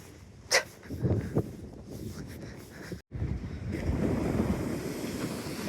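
Winter storm surf breaking right on the beach on the East Coast, a steady roar of washing water mixed with gusty wind noise on the microphone, with a brief dropout partway through.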